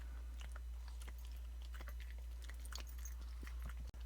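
A dog named Rusty chews a treat strip, with soft crunching bites and moist munching repeated close by over a steady low hum.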